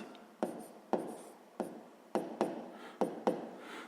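A pen writes numbers by hand on paper, making a series of sharp, close strokes and taps spaced at irregular intervals, quiet and alone without speech.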